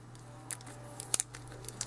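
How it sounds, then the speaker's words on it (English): Tape peeled off the build of a 4x4x2 tablet puzzle: a quiet series of short crackling, crinkling ticks and small snaps, closely spaced and near. "you can take this tape off"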